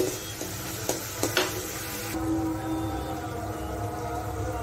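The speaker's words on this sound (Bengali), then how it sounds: "তেলের মধ্যে পেঁয়াজ আর কাঁচামরিচ দিয়ে দিয়েছি।" Chopped onion and green chili fry in oil in a pan, giving a moderate crackling sizzle. A few sharp utensil taps come early on, and a soft, even frying hiss continues after them. No voices are heard.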